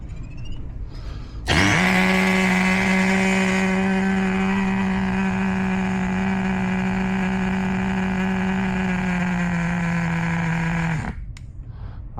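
A 1990 Kyosho Madcrusher USA-1 RC truck's small nitro engine opens up with throttle, holding a loud, steady high-pitched whine for about ten seconds before dropping back.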